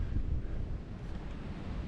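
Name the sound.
strong wind on an exposed mountain ledge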